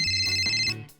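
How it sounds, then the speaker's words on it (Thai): A mobile phone plays a short bright electronic ringtone melody, a few quick tonal notes close and clear, then cutting off. "โทรศัพท์ดังในเวลาที่ไม่เหมาะสมเอ าซะเลย"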